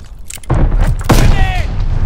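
A grenade is tossed and explodes in the Call of Duty Vanguard beta on PS5, a heavy boom landing around the half-second mark, followed by a second thump and a brief whistling tone as the blast rings out.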